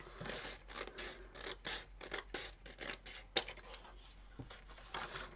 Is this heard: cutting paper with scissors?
yes